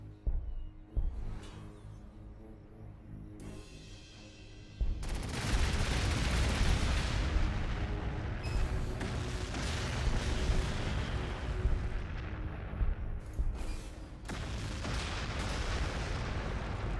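Booming artillery barrages in a Warhammer 40k Astra Militarum battle against a Necron city, with dense rolling blasts and gunfire that swell loudly after a quieter opening and rumble on continuously.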